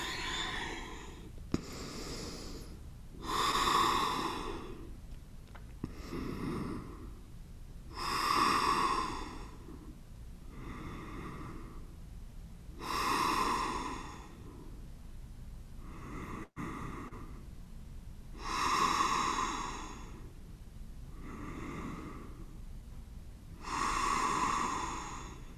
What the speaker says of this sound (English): So really finding some long, deepening breaths here.